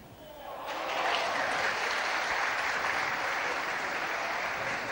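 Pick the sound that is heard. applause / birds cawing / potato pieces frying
applause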